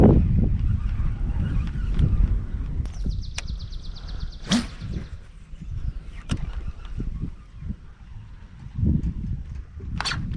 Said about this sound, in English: Oh, where did this wind come from? It was flat calm before.